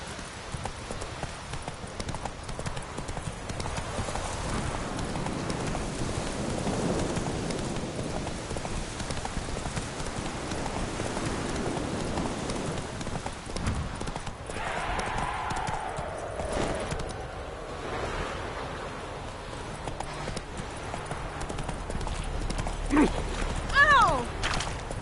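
Horse hooves clip-clop at a steady pace in a PS4 video game, under ongoing talk and a rain-like wash of background noise.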